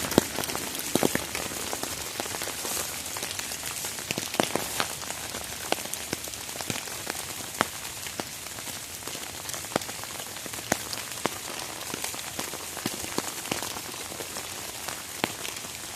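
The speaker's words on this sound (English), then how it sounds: "Rain is definitely picking up." Steady rain falls in the woods, a dense close patter of drops striking leaves and surfaces, with scattered sharper taps throughout and no voices.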